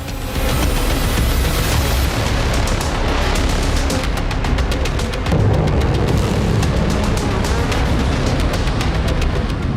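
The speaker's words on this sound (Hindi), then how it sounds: "बिजली स्टेशन पर विध्वंसक बमबारी।" Bombing strikes a power station in Yemen, with loud sustained rumbling and repeated booming blasts, a dense roar of crackling impacts throughout and a deeper surge midway.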